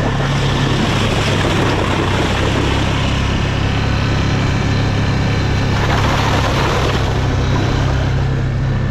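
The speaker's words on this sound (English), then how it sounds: "put the drone up in the air again." Skydio 2 drone climbing into the air on a cold Alaskan evening, its propellers giving a steady, loud whirring buzz that continues without a break, mixed with outdoor wind rumble.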